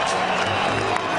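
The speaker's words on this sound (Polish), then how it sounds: "Brawa publiczności, kibice polscy w Newark są zadowoleni" A boxing arena crowd in Newark, with many Polish fans, cheers and claps after Tomasz Adamek's TKO win over Vinny Maddalone, a dense, continuous roar of applause throughout.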